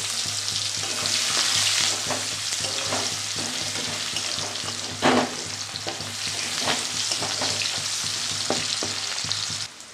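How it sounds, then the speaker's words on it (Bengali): Cumin seeds and onion frying in oil left from frying boal fish, a dense steady sizzle with repeated spatula stirs scraping the pan, close up and without talk. "একটু সাদা জিরে দিয়ে দিলাম ওই মাছ ভাজার তেলের মধ্যে একটা পেঁয়াজ দিয়ে দিলাম"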